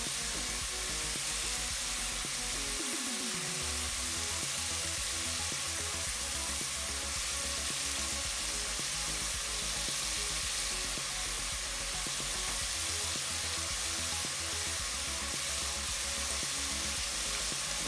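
Potato chips deep frying in hot oil, a steady broadband sizzle that holds close and even throughout, with no talking over it.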